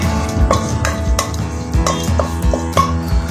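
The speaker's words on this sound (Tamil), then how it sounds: "பிரியாணி இலை, ஒரு ஸ்டார் பூ, 2 ஏலக்காய், 3 கிராம்பு, 2 பீஸ் பட்டை போட்டு நல்லா தாளிச்சிக்கோங்க." Bay leaf, star anise, cardamom, cloves and cinnamon tempering in hot ghee: a metal spoon repeatedly scrapes and clinks against the pan in a steady stirring rhythm, loud and close, with a faint sizzle beneath.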